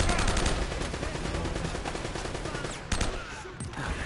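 Machine gun fire in Uncharted: Drake's Fortune, a rapid sustained stream of loud automatic shots with dense rattling bursts, a brief pause near the end, then firing resumes.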